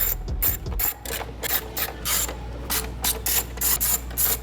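A ratchet backs out 10mm bolts on a BMW N55 engine, giving a close, loud run of rapid clicking in quick repeated strokes with no one speaking.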